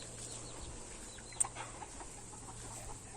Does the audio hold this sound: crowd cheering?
no